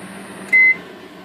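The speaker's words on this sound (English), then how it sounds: "Let me just go ahead and stop the microwave right now." A microwave oven hums steadily while powered from a Cotek SK pure sine wave inverter, then a short, loud, high beep rings out as it is stopped, leaving the low hum behind; no one speaks.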